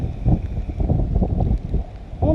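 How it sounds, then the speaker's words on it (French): Wind gusting steadily outdoors on a wet, rainy day during a trek near the sea, a continuous low rumbling roar of wind buffeting the microphone with no break. "Et le vent il descend pour un sens là."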